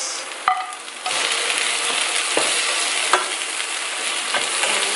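Tomatoes sautéed with onions in a pan for pork pata caldereta, a steady sizzle with scraping stir strokes and occasional utensil clinks throughout.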